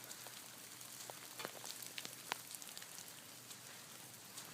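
Rain patters on an outdoor triple spiral labyrinth path in cold weather, a continuous hiss broken by scattered close drips and drops, with no one speaking.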